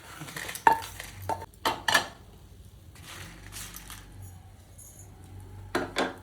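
Tamarind drops into a pan of roasted dried red chillies, giving a few sharp clinks and scrapes of utensil on metal followed by quieter stirring and faint frying.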